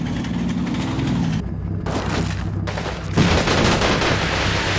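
Firefight in the World War II strategy game Combat Mission Final Blitzkrieg, a loud, steady clatter of rifle and machine-gun fire with booming blasts, one heavier hit near the end.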